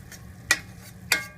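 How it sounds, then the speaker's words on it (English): A spoon stirs a boiling pot of curry, giving two sharp scraping knocks about half a second apart over a soft, steady bubbling background, close and fairly quiet with no talk. "Give that a stir."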